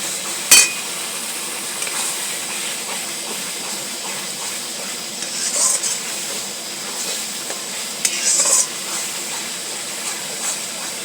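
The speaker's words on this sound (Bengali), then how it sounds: "দিয়ে ভালো করে এইটাকে কষবো" Biryani masala being stir-fried in a pan for chicken biryani, a continuous loud hiss and sizzle with scraping strokes of a spoon and a few sharp metallic clinks against the pan.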